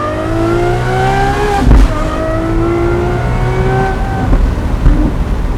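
A Gintani-tuned Lamborghini Aventador SVJ accelerates hard in second gear, its loud, close engine wail climbing steadily in pitch with a brief thump partway through and no talking.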